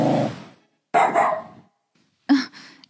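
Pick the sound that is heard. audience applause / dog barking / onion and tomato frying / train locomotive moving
dog barking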